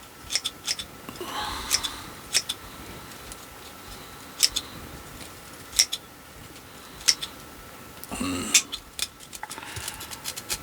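Pruning shears snipping Chinese elm branches, a series of crisp, sharp cuts spaced a second or so apart, close up, with rustling of leaves between cuts.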